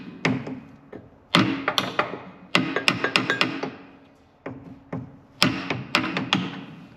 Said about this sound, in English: There's got to be a better way to do this than just hit it with a hammer